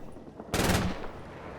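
A single sharp mortar spotting-round blast goes off in the video game Combat Mission Red Thunder, played on a Stalingrad mod campaign. It is one abrupt report with a short decaying tail, surrounded by quiet.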